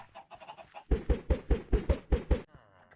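Chickens in a farming video game cluck in a quick, loud run of about eight evenly spaced clucks, preceded by softer, lighter clucking.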